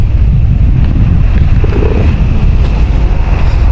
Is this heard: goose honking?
no